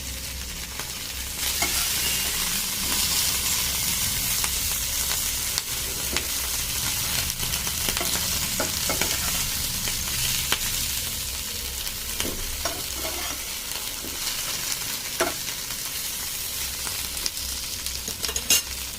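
Steady, loud sizzling of food frying in a pan runs throughout, broken by scattered clicks and scrapes as the pieces are turned over.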